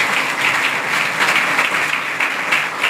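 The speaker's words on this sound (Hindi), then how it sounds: "लेकिन ताली बहुत अच्छी लगी आप लोगों की" Loud, sustained applause from an audience at a spiritual talk by a saint in a higher secondary school, dense and continuous throughout with no voices over it.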